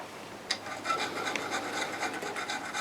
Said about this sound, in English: I have to use a smaller file when I'm using my smaller tools.